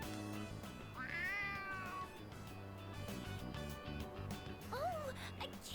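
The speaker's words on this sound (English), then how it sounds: "Oh, a kitty cat! Aw, he's so cute!" A cat in Persona 3 Reload meows twice, a longer rising-falling meow near the start and a shorter one near the end, both close and clear over game music.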